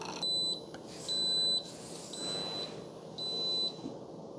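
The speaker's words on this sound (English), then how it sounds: "when it's done, it beeps at you and says the word end." Ninja CM401 specialty coffee maker sounding its brew-complete alert: a series of short, high electronic beeps in a repeating on-off pattern, clear and close over a quiet kitchen background.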